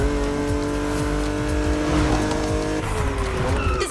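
Modded Japanese racing cars in The Crew Motorfest on urban streets, with loud close engines revving and shifting, tires squealing and skidding in continuous overlapping bursts.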